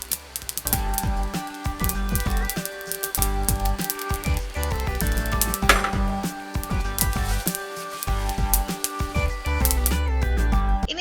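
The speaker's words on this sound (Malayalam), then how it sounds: "അപ്പൊ അതേ കടുക് നന്നായിട്ട് പൊട്ടി തുടങ്ങിയിട്ടുണ്ട്" Dense, continuous crackling and sharp pops of mustard seeds spattering in hot oil, steady and close throughout with no voices.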